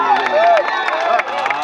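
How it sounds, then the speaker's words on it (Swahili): A crowd ululates with high, wavering trills over cheering and babble at a house dedication, loud and close, in a short burst. "Pigeni vigelegele vizuri hata kama nyinyi ni wachungaji"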